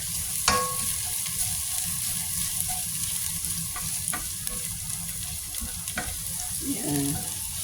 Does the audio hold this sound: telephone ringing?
no